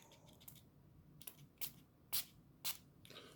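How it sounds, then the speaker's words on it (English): Several short, sharp hissing bursts of a spray bottle spraying a watery brown paint wash onto tabletop terrain, spaced irregularly, fairly close and moderately loud over quiet background. "So what I'll do is I'll just spray it on there"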